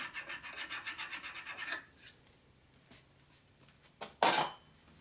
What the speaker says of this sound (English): Take those burrs off that are on there.